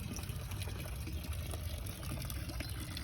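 Steady water gushing from a 600W pump through a 1.25-inch pipe, a continuous loud rushing flow with no breaks, close by and without talking.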